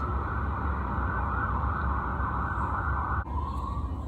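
A loud siren holds a steady, sustained tone, then shifts pitch slightly near the end, with no voices.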